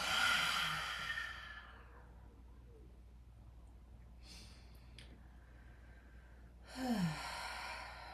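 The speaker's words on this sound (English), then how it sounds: "And as you exhale, stick out the tongue." A forceful yoga exhale with the tongue stuck out, a loud breathy rushing out-breath at the start, then a quieter second exhale with a soft vocal tone near the end.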